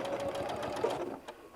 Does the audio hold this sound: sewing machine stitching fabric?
yes